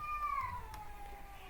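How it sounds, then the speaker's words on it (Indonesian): A domestic cat meows once in a long, drawn-out, falling cry, fairly faint against a low background hum, with no voices present. "Masa itu kucing nggak bisa diem."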